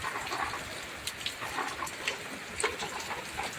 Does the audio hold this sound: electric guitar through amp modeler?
no